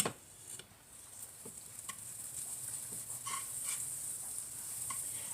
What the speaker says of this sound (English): add my patties to the pan. I'm going to add a little butter first so they don't stick